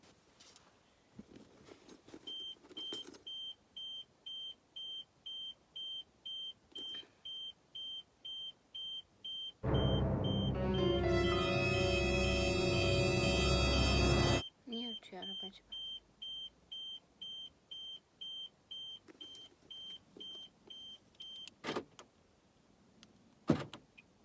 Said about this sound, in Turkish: Araba öttü. Neden öttüğünü bilmiyorum.